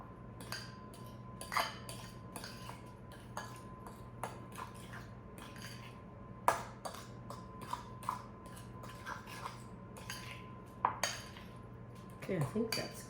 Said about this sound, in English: Just mix this in. Make sure the salmon is evenly dispersed so it goes in each egg